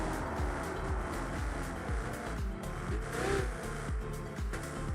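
An aggressive Italian sports car mod in BeamNG Drive, on the game's Italy map, is revved repeatedly. The close engine snarls climb and drop in quick successive bursts, with brief tire-squeal-like edges.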